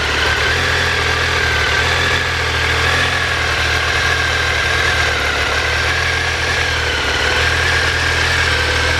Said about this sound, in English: Lovely familiar 3-cylinder whistle that you get from these engines.